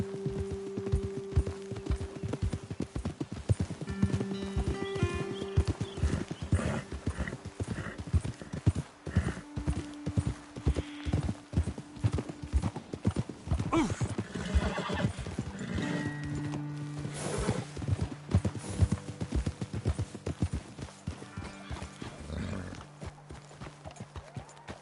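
Steady clip-clop of horse hooves trotting in Red Dead Redemption 2, with an occasional whinny and a soft musical drone underneath.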